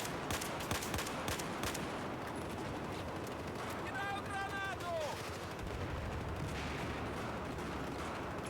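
Battlefield 4 gunfire on Xbox One: dense, continuous rattling shots and blasts across the whole stretch, loud and unbroken, with a brief tonal game alert partway through and no clear speech.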